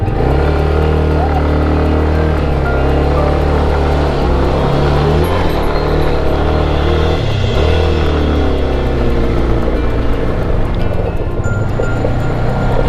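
Vehicle engine labouring in low first or second gear while climbing a steep, winding mountain road up Pareshnath hill, a loud, constant close drone with shifting pitch under heavy road rumble.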